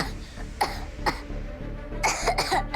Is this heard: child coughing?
yes